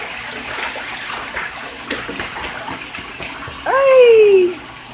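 Pet goose bathing in a filled bathtub, with soft sloshing and splashing water close by, then a loud sustained honk-like squeal near the end.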